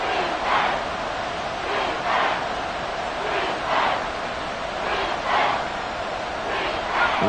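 A stadium crowd roars in the American football video game Madden 23, a loud sustained chanting swell that pulses rhythmically in waves.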